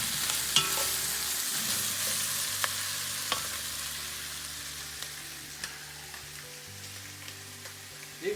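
Lardons, mushrooms and onions sizzle in a pan for chicken grand-mère, a steady hiss of frying with occasional clicks and scrapes of stirring, close and even throughout.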